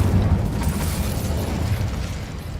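The Incendio fire spell in Hogwarts Legacy, heard as a loud, roaring burst of flame with a deep rumbling body and a crackling upper layer that holds steady for a couple of seconds.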